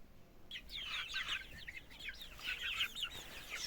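Two-month-old chickens cluck and chirp nearby in a busy, overlapping chorus that keeps going steadily from start to finish.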